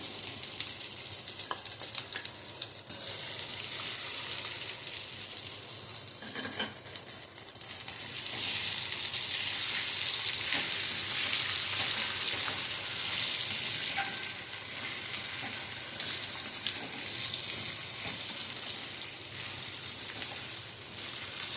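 Chopped boiled potatoes and peanuts frying for sabudana khichdi, a dense close sizzle that swells louder midway, with intermittent stirring scrapes in the pan.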